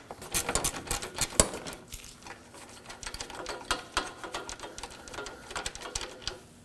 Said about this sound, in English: Using a 10mm socket, we're gonna remove it.